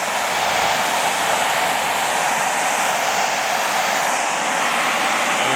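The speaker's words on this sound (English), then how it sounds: "this is like a suction blower. But, you know, the vacuum works pretty well." An electric lithium air duster running as a vacuum gives a loud, constant high-pitched whooshing whine, close and unbroken from start to finish with no talking.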